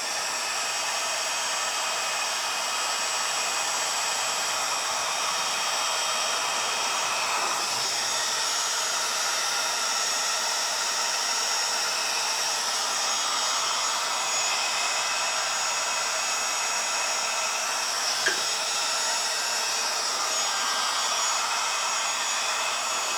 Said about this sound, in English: let's hook the heat gun up